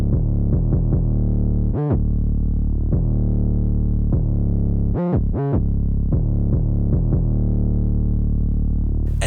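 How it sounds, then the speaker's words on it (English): A UK drill 808 bass line plays in sync with the kicks: deep, sliding sub-bass notes hold and glide under a steady beat, loud and dense with no talking. "decided to add this very, very simple but very effective 808 bass line that went really well with the main melody"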